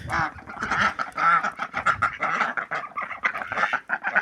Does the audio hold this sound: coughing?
no